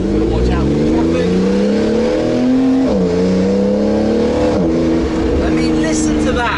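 Supercar engine with a sequential manual gearbox, revving hard while driving in traffic, a loud close roar that climbs in pitch, dips at a gear change and rises again, with a voice over it.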